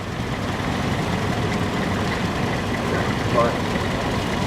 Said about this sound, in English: It's powered by a 4-cylinder diesel engine, and it must be considerably more powerful than the standard 2-wheel drive